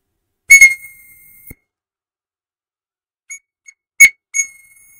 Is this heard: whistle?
yes